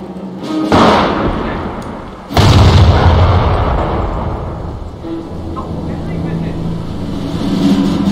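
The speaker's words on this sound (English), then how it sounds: "Taking enemy fire!" Heavy artillery and gunfire in the World War II strategy game Company of Heroes: a loud boom opens, a second big blast follows near the start, then a rumbling battlefield roar with shouted voices underneath.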